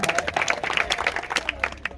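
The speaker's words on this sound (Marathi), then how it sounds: "एकदा पुन्हा एकदा तिच्या नावाचे टाळ्या." Applause at a former students' reunion of the 1997-98 batch of Matsyodari Vidyalay, a close, irregular burst of hand clapping from a gathered group, with some voices mixed in.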